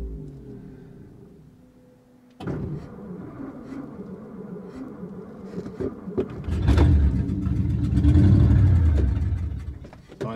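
Vintage Ford flathead engine idling in a garage, a low uneven rumble that starts faintly, thickens and grows louder midway as vacuum-operated accessories load it down, heard up close without talk.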